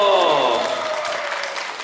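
Audience at a community family event in Jangheung clapping together in a brief burst of applause that fades slightly over under two seconds, with no voices over it.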